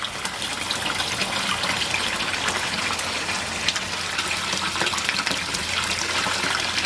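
Steady, dense splashing of water from a pond waterfall falling and spattering continuously onto an EPDM filter box cover, close by, with no voices over it.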